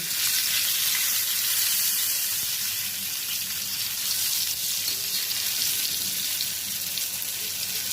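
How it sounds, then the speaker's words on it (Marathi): Stuffed pomfret fries on its second side in a pan over a low flame, giving off a steady, even, close sizzle that runs continuously without a break. "आपली पापड्याची दुसरी बाजू तळून झालेली आहे"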